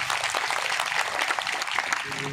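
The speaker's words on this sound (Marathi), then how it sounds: "ज्या ती कृष्णात जोरदार टाळ्या वाजल्या" An audience claps throughout at a Ram katha religious discourse, a dense and continuous applause at moderate loudness, with a voice coming in toward the end.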